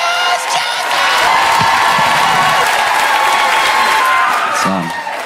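Audience at a stand-up comedy show bursts into loud, sustained applause and cheering, with whoops and shouts rising over dense clapping that fills the whole stretch.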